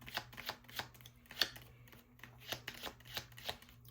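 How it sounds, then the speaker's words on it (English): Tarot cards being shuffled by hand, a quiet series of crisp riffling snaps and slaps in an irregular rhythm, close and soft with a faint steady hum beneath. "We're going to finish out this shuffle"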